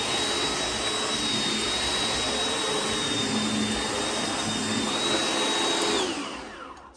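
A Gtech HyLite 2 vacuum cleaner runs on a cheap rug, its steady high-pitched motor whine loud and close and holding even for about six seconds before winding down and cutting off.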